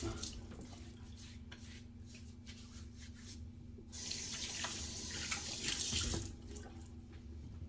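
Water runs from a sink tap while a face is wetted for shaving, a steady close rush that swells louder and splashier partway through, then settles back.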